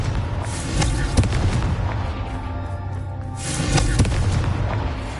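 A Confringo spell explodes in the Hogwarts Legacy video game, with deep booming blasts and rumbling bursts layered over dense game sound, loud and close, with no talk.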